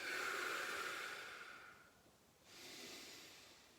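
Slow, deep breathing during a shoulder mobility session, a long airy exhale fading out, then a pause and a softer inhale beginning, quiet and close with no talk.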